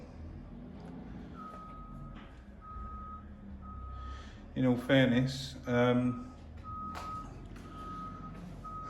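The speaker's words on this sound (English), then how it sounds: "It's a nice forklift out there again." Repeated high-pitched reversing beeps from a forklift sound at a regular pace in the distance, pausing while someone speaks nearby, then resuming.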